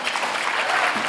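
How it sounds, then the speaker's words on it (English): Brief burst of audience applause at the 2016 Hult Prize Finals and Awards Ceremony, dense clapping from a sizeable crowd, steady and moderately loud, with no voices over it. "Hold your applause, please."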